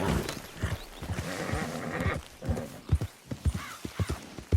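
A Missouri Fox Trotter horse in the Red Dead Redemption 2 video game whinnies loudly, then its hooves clip-clop in an uneven rhythm on hard ground close by.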